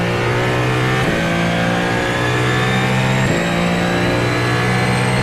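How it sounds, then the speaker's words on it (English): The Ferrari 499P V6 in iRacing revs loudly and close, rising through the gears with two quick shift dips and a smooth, sustained, high engine tone throughout. "This car's engine is very soothing. I could listen to it for 24 hours."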